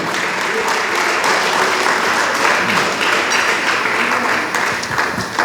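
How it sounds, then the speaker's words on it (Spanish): A church congregation claps during a sermon, a loud, sustained wash of many hands with a faint rhythmic pulse, voices mixed in underneath throughout. "Dele palmas al Señor"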